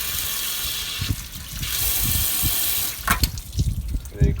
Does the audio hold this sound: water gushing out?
yes